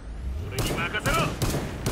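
Gunfire in the video game Killing Floor 2 comes as three sharp, loud bursts of shots in quick succession, each with a short reverberant tail over steady background game noise.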